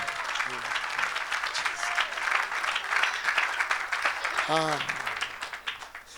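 A congregation applauds steadily at an evangelical gathering, the dense clapping filling the space with a shout and a rising voice breaking through it near the end.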